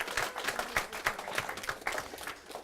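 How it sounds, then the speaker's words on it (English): An audience at a school social studies scholars biathlon awards event claps for a donor, a moderately quiet round of applause with clearly separate, fairly regular hand claps. "So let's give them a big round of applause."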